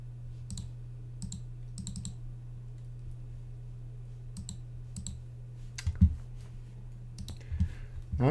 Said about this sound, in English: Right click and open it. Or actually even just double click.